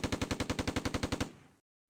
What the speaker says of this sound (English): The tanks are firing at the western edge of Schijndel,